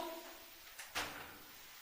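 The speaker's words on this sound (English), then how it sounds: "That noise is me pushing this door." A door being pushed inside an old abandoned asylum, a short faint scrape followed by a louder brushing thud, heard close against quiet room noise.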